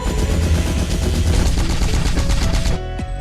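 Toya's coil shot attack in the Lost Dimension video game, a dense burst of rapid crackling, rattling hits like automatic fire lasting nearly three seconds, loud and close, then cutting off abruptly into a brief quiet tail.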